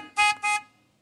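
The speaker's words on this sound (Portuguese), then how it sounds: "Deixa eu dar uma buzinada aqui, ó." Two short, loud car horn honks from a Golf, close by, each blast lasting a fraction of a second with a brief gap between them, then quiet.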